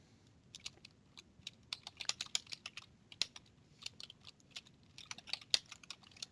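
Fingers type on a computer keyboard in quick irregular bursts of crisp key clicks, close and fairly quiet, with no talking.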